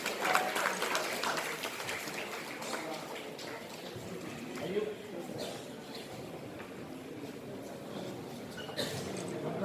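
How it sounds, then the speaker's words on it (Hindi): A hall audience claps for Ahmed Patel as he comes on stage at an award ceremony, a broad continuous patter of applause rising and easing, with a voice speaking over it on a loudspeaker. "जोरदार तालियां अहमद पटेल सर के लिए।"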